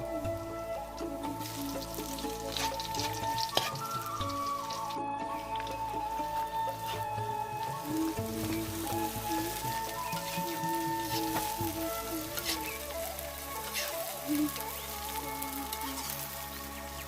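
Water hyacinth frying in a pan at a hut beside rice paddies: a dense, steady sizzle and crackle of popping droplets runs throughout at a fairly loud level, with faint voices in the background.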